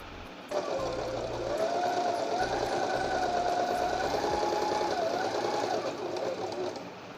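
A Singer 8280 sewing machine running a decorative stitch hums in one steady, continuous run for about six seconds, loud and close, with no talk over it.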